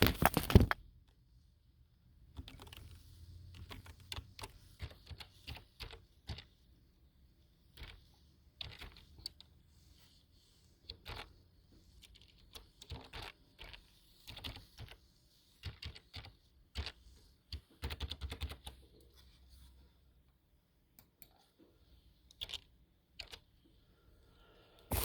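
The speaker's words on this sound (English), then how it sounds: "Let me type in a text real quick." Someone types text on a computer keyboard, giving scattered soft key clicks in short bursts and pauses against a quiet background.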